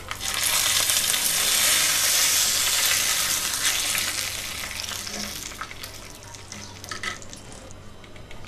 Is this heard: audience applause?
no